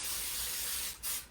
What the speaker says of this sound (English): grease it with spray or with butter or coconut oil